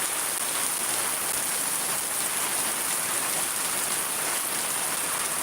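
Heavy rain pours down in Shariatpur, a dense, even roar of water close by that holds steady throughout with no voices.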